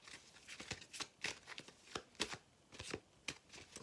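Oracle cards being shuffled for a four-card cross tarot-style spread: a run of crisp, papery riffles and slaps, close and fairly soft, coming in quick irregular bursts with no talking.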